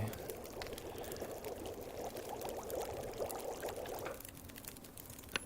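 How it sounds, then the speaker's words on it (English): In The Long Dark survival video game, snow melts into drinking water as a steady pouring, bubbling liquid sound that runs for about four seconds at moderate volume before tapering off into quiet. "I'm going to melt down some snow and make some drinkable water"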